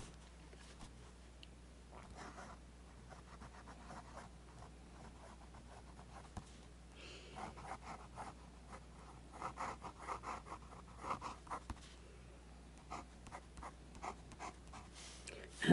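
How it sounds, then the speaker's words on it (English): A fine-nib fountain pen scratches across paper, close and quiet, in a steady series of short strokes with brief pauses, growing a little busier toward the end. "This is a fine nib"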